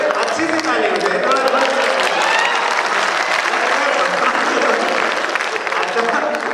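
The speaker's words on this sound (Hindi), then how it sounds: "अच्छी सी ताली हो जाए।" An audience at an international Hindi-Urdu poetry gathering, a kavi sammelan and mushaira, breaks into sustained loud applause, dense clapping from a large crowd with voices mixed in throughout.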